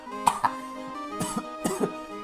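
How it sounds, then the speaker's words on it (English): Short coughs sound in a Phoenix Wright: Ace Attorney – Justice for All game scene: about three separate bursts, some doubled, close and fairly sharp over a soft sustained musical background. "We're already getting the coughs."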